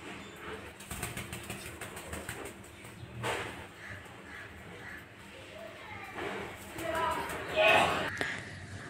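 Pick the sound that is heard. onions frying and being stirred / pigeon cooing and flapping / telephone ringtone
pigeon cooing and flapping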